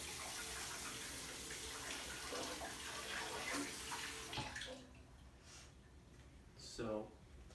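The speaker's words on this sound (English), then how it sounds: "you're going to want to fill it up with warm water" Warm water running into a small bowl in a home kitchen, a steady loud rushing stream for several seconds that then drops away, leaving quieter room noise with a brief voice near the end.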